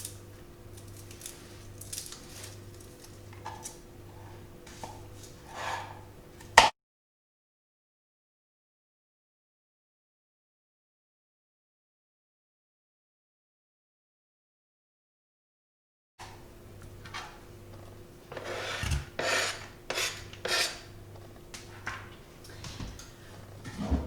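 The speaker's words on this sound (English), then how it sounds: "So we shall just chop finely the garlic and the onion." A kitchen knife finely chops garlic and onion on a board, with light, irregular tapping cuts that stop for a long silent gap and then resume more busily.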